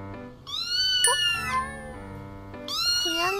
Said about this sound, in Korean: 고양이 소리?